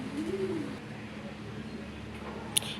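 A single soft coo from a female Madrasi Golla pigeon rises and falls near the start, followed by quiet room noise and a brief faint click.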